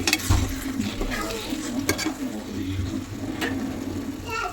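Fresh coriander being stirred into a tomato and onion thokku in a pan, giving a continuous scraping, stirring sound with soft sizzling underneath and occasional sharper knocks against the pan.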